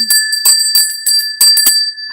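A hand bell is rung repeatedly in loud, bright, irregular strokes, each clang leaving a sustained metallic ring that carries between the strikes, heard alone and up close.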